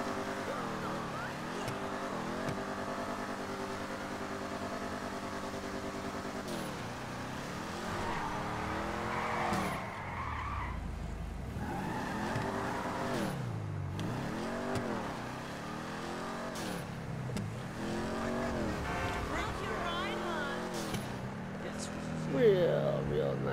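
A custom crew car driven in a video game, its engine droning steadily with rising and falling revs throughout, close and continuous, while a person talks over it.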